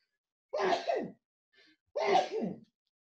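Two separate human sneezes about a second and a half apart, each a sharp burst trailing off, close and fairly quiet, with a faint small sound between them.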